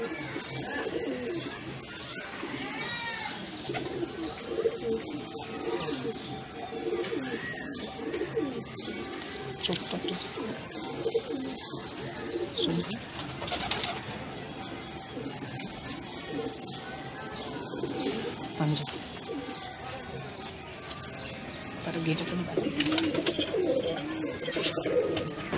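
Madrasi pigeons coo steadily and repeatedly at close range, their soft, throaty calls layered over a busy, continuous background with occasional chirps.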